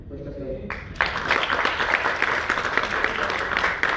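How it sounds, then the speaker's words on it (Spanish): An audience at a Spanish-language book presentation breaks into applause, a dense burst of clapping that starts abruptly and continues steadily for several seconds, with a voice briefly audible. "Fuerte aplauso."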